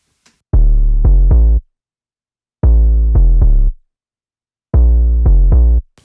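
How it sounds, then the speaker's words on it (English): Saturated 808 bass in a repeating pattern of three deep booming notes, played three times with gaps between, loud and dry with no other instruments or voices. "The bass is just a saturated 808."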